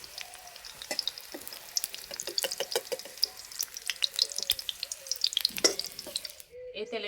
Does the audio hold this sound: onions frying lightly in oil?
yes